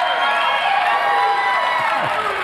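A crowd at a Hall of Fame event cheers and applauds loudly and continuously, a dense wash of clapping and voices with a few whoops rising above it.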